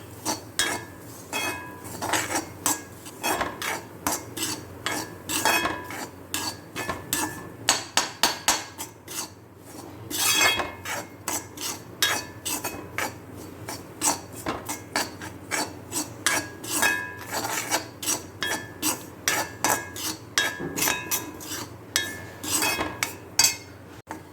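Grated coconut and spice masala are stirred and roasted over low heat in a pan, with a steady series of scraping, clinking utensil strokes in an uneven rhythm, close and moderately loud.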